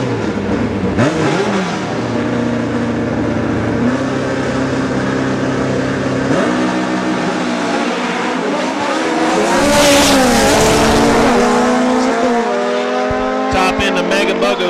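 Drag racing cars roar through time trial runs at a strip, engines revving hard with rising and falling pitch sweeps, loud and continuous, as a track announcer talks over the noise.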